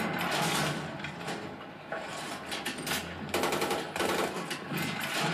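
Rapid bursts of automatic gunfire in a Battlefield 3 tank battle crackle loudly in repeated volleys, with short gaps between stretches of firing.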